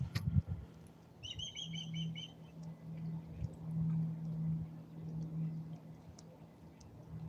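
Parakeets (budgies) in New York chirp in quick, bright repeated bursts over a low steady hum of boat motor, moderately close, with no speech.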